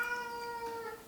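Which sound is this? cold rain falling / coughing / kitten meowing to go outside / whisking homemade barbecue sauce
kitten meowing to go outside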